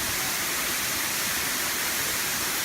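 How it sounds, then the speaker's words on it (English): Tai Tai Falls in the Philippines pours in a steady, dense roar of falling water, a broad continuous rush with no breaks, heard close and alone. "This is the waterfall in all of its glory."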